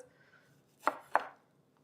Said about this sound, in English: I'm just gonna roughly chop those or dice them.